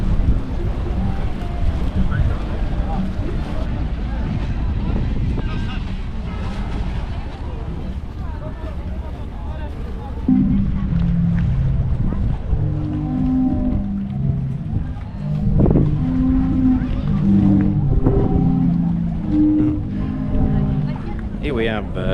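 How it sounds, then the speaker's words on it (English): Zadar's sea organ on the Croatian waterfront, with waves pushing air through tubes, gives low, drawn-out moaning tones that swell and fade, under heavy wind buffeting on the microphone. "Zadar's sea organ behind me, and it's those noises you can hear."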